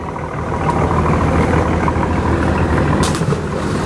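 Engine of a sea-going wooden boat running steadily and close, a continuous low rumble with a faint mechanical knock, alone with no talk.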